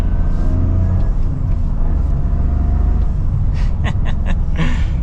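A 2023 Toyota GR Corolla Circuit Edition engine drones loudly and steadily from inside the cabin, with a few brief rev-like surges near the end as a rev-matched downshift is made.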